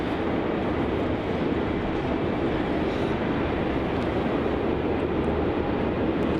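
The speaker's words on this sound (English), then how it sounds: "This departure is going to be Virgin Australia flight VA217 heading off to Adelaide." Virgin Australia flight VA217 departing Melbourne Airport for Adelaide, a steady broadband jet roar that holds loud and even throughout, with no talk over it.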